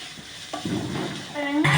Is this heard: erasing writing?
no